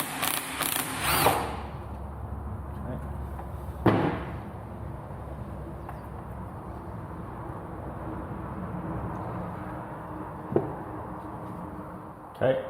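A power tool whirs in a short burst, then a sharp knock follows, while removing a 10mm bolt from a Lotus Exige S2 gearbox during a teardown; a person talks over much of it.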